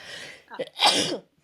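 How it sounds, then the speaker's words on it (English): A single sharp sneeze, close and loud, preceded by a quick breathy intake. "I did have to sneeze."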